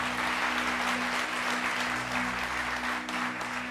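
A church congregation applauds in a steady, even wash of clapping, with a low hum running beneath it.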